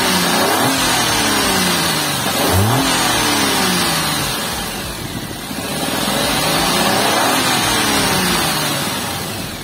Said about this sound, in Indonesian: kita pengen denger dulu suara mesinnya dan getarannya kayak apa gitu kan. Karena kan mesinnya 1000cc, 3 silinder